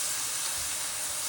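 Ground beef browning in a pan for cilantro feta enchiladas gives a steady, even hiss of sizzling, constant and close throughout with no voices.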